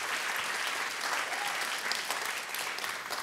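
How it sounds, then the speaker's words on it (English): A round of applause from an audience at a live talk show event, steady dense clapping heard at moderate distance for the whole stretch with no voices over it. "Maybe just a round of applause for everybody that's part of Skin Deep"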